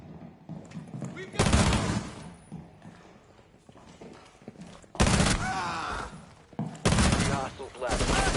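Full-auto rifle fire in Rainbow Six Siege comes in three loud sustained bursts separated by quieter gaps, with someone talking between and over the shooting.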